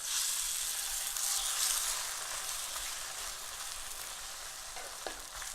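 Egg and roti fry steadily in a pan for an Indian chicken kathi roll, giving a continuous, even sizzle with a faint crackle and one small clink near the end, with no voices.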